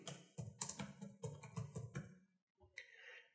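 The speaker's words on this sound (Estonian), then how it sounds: "Ja kui ma olen selle ära trükkinud" Quiet typing on a computer keyboard while entering footer text in LibreOffice Impress, a quick run of soft key clicks in short bursts, a brief pause, then a few more taps.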